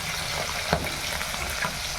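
Fish pieces frying in oil crackle and sizzle in a brief, steady burst with a soft stirring scrape, close and moderately loud, with no voices.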